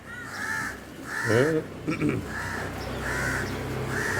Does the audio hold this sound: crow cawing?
yes